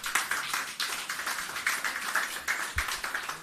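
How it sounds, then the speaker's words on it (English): Applause from an audience at a Jamaican agriculture and fisheries ministry hurricane recovery gathering, continuous clapping from many people with a lightly pulsing rhythm, fairly loud and close, no voices over it. "Keep the applause going."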